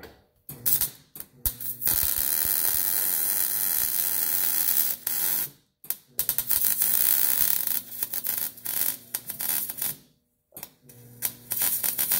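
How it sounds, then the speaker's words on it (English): Welding a muffler flange on the exhaust of a 2009 Subaru Forester: loud, steady buzzing crackle in long bursts broken by a few short pauses, close by, with no talking. "let's give it a nice weld."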